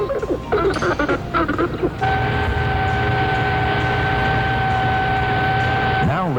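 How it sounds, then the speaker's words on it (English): Squeaky, warbling porpoise whistles and chirps underwater for a couple of seconds, followed by a steady mechanical hum with faint tones. "Friendly porpoises."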